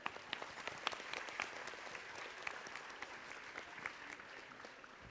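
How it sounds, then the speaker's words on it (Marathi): Faint audience applause at a Kalyan event honouring former students, a steady spread of many hands clapping from a distance for several seconds. "त्या सगळ्यांसाठी टाळ्या होऊ देत."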